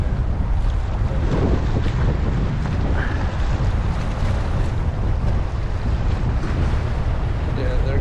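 Strong wind roars and buffets the microphone continuously, with a rough, gusty rumble over what sounds like open water, heard from shore while fishing.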